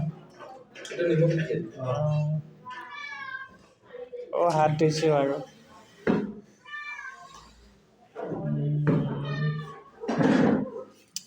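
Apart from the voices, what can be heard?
cat meowing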